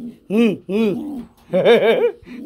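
A male running pigeon coos in loud, close, throaty bursts: two separate rolling coos, then a longer warbling phrase with a short tail at the end.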